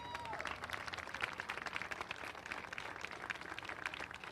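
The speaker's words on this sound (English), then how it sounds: "Give a round of applause if you would" Crowd applause at an outdoor speedway on a military appreciation night, a faint, distant, steady patter of many hands clapping that continues throughout.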